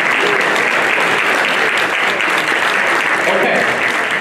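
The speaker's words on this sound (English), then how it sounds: "let's clap, let's clap, let's clap, let's clap" Sustained, loud applause from a lecture audience, dense steady clapping filling the room throughout without a break.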